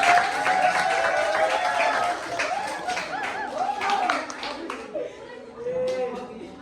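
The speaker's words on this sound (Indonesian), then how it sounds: "tepuk tangan buat tokoh kelas" A university class claps briefly for a classmate, light scattered clapping mixed with a voice speaking over it and a few chattering voices.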